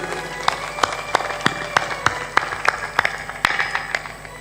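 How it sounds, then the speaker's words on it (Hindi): Sparse, uneven claps ring out in a hall during a spiritual discourse, a dozen or so separate sharp hits spaced irregularly over a low background hum, with no real crowd swell. "तालियां ऐसी बज रही हैं"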